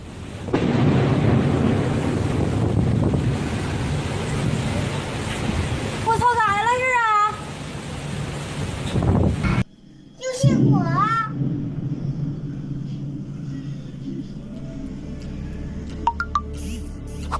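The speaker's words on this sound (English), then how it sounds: "supercharged lightning striking the power lines below" Lightning strikes high-voltage power lines over a busy street, bringing heavy rumbling roar and a sharp crack that briefly cuts out, while onlookers on balconies talk and shout excitedly throughout, with fainter crackles trailing afterward.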